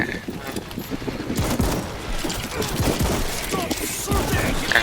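Shotgun gunfire in the zombie shooter World War Z during a four-player Moscow mission, a rapid, dense run of sharp blasts and crowded battle noise, loud and close throughout, with voices mixed in.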